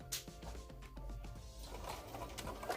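Home sewing machine running a seam on a fabric face mask with an elastic band tucked in, a steady mechanical whir with rhythmic stitch knocks, then scraping fabric handling toward the end, close and fairly quiet.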